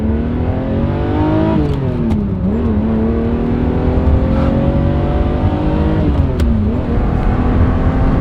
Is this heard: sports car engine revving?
yes